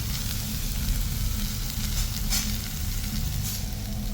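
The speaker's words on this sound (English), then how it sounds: "look at the beautiful display of the vegetables, the lemon and everything, and hear that sizzle." Steady, close sizzling of kebab on a hot grill at an Afghan restaurant, a constant crackling hiss with a few brief louder pops.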